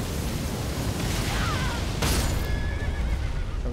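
A horse neighs in the video game Elden Ring, a whinny rising over a constant rumbling game backdrop, with a sharp booming hit midway and another whinny trailing after.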